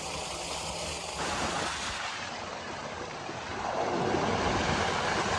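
Water gushing from a farm motor pump in a field in Punjab, a constant loud rushing flow with a wind-like hiss throughout.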